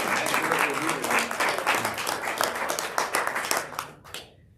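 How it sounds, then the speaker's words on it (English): Audience applause fills a Rotary Club luncheon room at Oak Hill Country Club, dense clapping from many hands that thins out and stops near the end, with a voice speaking briefly over it. "And again, another round of applause for Deborah Rosen."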